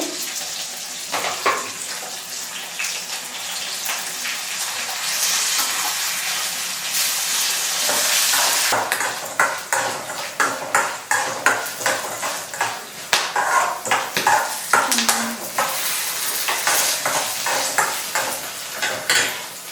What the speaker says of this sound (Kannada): ಬೆಳ್ಳುಳ್ಳಿ ಜೀರಿಗೆ ಇಷ್ಟನ್ನು ಸ್ವಲ್ಪ ಫಸ್ಟಿಗೆ ಫ್ರೈ ಮಾಡ್ಕೊಳ್ಳಿ